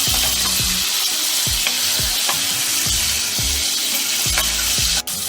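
Pieces of aar fish fry in a pan with a loud, close sizzle, broken by a run of regular scraping strokes from stirring, roughly every half second, and one sharp click near the end.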